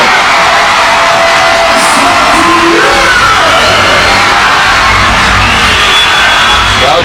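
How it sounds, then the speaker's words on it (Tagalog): Basketball arena crowd at a Negros Slashers vs Surigao Warriors game roars steadily, cheering, whooping and yelling in a loud, dense wash that swells throughout. "Crowd coming alive."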